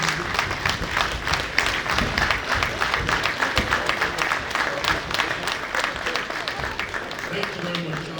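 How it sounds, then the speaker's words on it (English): An audience at a graduation ceremony applauds the military with sustained, dense clapping that holds steady throughout, with some voices mixed faintly into the crowd. "can we please clap for the military?"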